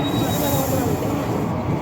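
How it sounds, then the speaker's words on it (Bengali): A train passing close by during a morning outing to Mayapur: a steady, loud rolling rumble of rail cars with a thin metallic wheel squeal above it. "ট্রেনটা যাচ্ছে যে"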